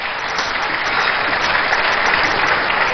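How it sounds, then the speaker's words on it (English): An audience in a great hall gives a steady round of applause, thick and even, with no voices over it. "Let's give a round of applause for him again."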